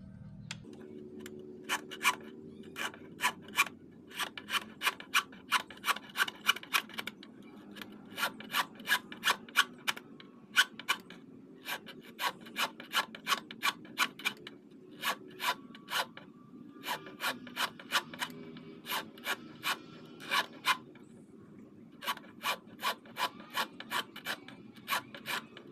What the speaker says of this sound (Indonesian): Kalau nggak punya, pakai kikir segitiga juga bisa.